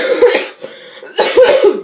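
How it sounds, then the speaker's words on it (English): Two bursts of harsh, close coughing separated by a short pause, loud and without any talking. "Sorry, got a little cough."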